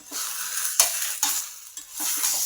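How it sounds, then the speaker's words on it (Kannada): Holige flatbread cooks on a hot tava pan, a steady close sizzle broken by a few sharp scraping or flipping clatters, with no talk. "ಹೋಳ್ಗೆ ತೇವ್ಯಾಗ ಹಾಕಿ ನೋಡ್ರಿ."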